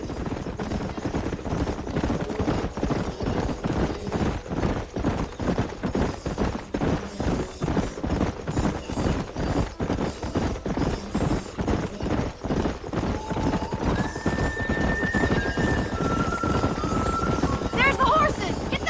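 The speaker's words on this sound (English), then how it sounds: "There's the horses!" Horses in the Red Dead Redemption video game, a steady rhythmic clip-clop of hooves running throughout, with brief tonal game sounds near the end.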